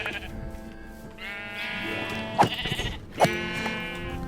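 Sheep bleating in the video game Minecraft: a couple of close, clear, wavering bleats, one after another, loud against a quiet background.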